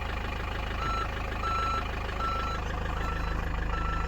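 A retrofitted parking sensor on a campervan conversion beeps in a repeating series of short tones while the van reverses, over a low steady engine rumble, with no talk.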